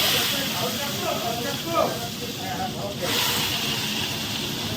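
Radish slices sizzle and hiss in hot oil already used to fry tangra fish, a steady bubbling crackle heard close up with soft voices talking over it.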